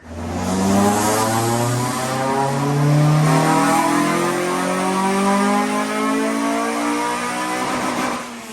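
A K20-swapped Honda Civic EJ9 engine revs up steadily under load on a dyno power run, pitch climbing over several seconds before easing off near the end, loud and close.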